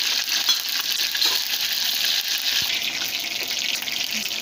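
Cumin seeds tipped into hot oil for a masoor bhaji, giving a loud, close, steady frying sizzle that crackles evenly throughout with no voices.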